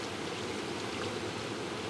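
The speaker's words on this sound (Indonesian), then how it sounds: "Jadi ada dua sungai yang bertemu di satu titik." Rushing river water at the confluence of two rivers, a dense, steady broadband wash heard up close with no breaks and no voices.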